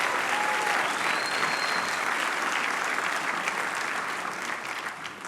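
A large audience applauds at a human rights organization dinner in Los Angeles, dense sustained clapping that stays full and loud before easing slightly toward the end.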